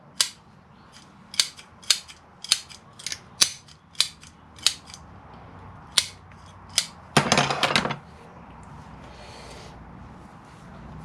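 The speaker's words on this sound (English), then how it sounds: "we're just going to trim the longer roots away so it's ready for its new pot." Scissors snip through the roots of a Japanese trident maple bonsai during repotting, about a dozen sharp, close clicks spaced a second or so apart, plus a brief rustle of handled roots, with no talk.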